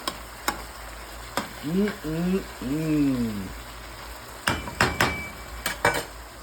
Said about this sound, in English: Two pounds of hamburger. Fry it till it's brown.